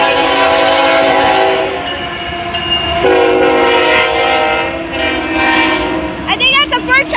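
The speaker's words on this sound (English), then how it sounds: "I think that's the first time I've ever seen a 4-engine train, and it looks like a grain train." A four-engine grain train passes close by in Folkston, Georgia, blasting its multi-tone horn in long loud sustained calls over the rumble of the locomotives, with a few short horn bursts at the end.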